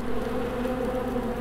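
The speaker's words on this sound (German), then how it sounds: "Oh, diese Fliegengesumme." A fly buzzes steadily and continuously in the video game Blackguards 2, a close, droning insect hum holding at an even level throughout with no talk over it.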